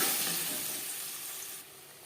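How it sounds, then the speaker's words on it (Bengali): Ginger, green chili and tomato fry in oil seasoned with panch phoron, giving a continuous close sizzle that eases slightly toward the end, with no voices. "পাঁচফোড়ন ভেজে নেওয়ার পর দিয়ে দেবো আদা কাঁচা লঙ্কা ও টমেটো যেটা আমি সাথে ভেজে নিয়েছি"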